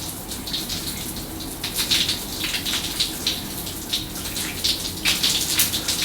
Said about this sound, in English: And the water should be running now.